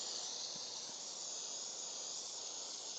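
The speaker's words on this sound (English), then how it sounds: "And then take your hairspray." Hairspray is sprayed over model railroad scenery and turf, giving a continuous, even aerosol hiss that holds steady for three seconds with no talk.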